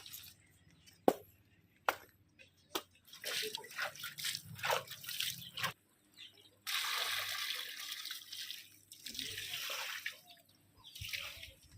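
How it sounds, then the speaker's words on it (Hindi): Water poured from a vessel into soil for mixing in a village home: splashing, gurgling pours in bursts with dripping in between, close by, and a few sharp knocks early on. "मिट्टी में पानी डाल दिए हैं"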